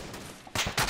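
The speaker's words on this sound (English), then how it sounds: "Yeah, I'm taking fire" Gunfire in the military shooter ARMA 3, two loud broadband bursts arriving in quick succession after a quieter stretch, sharp and close with no talking.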